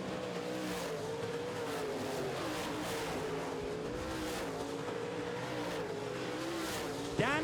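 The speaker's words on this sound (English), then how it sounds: "These cars are flying on a great looking racetrack." Modified race cars roar around a racetrack in a feature race, engines droning and shifting pitch as the pack passes, with a sharp tire squeal near the end; crowd-level distance, no talk.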